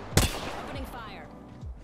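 A single sharp, loud gunshot from Apex Legends with a metallic ring, followed by fainter clanking and two short low thuds trailing off.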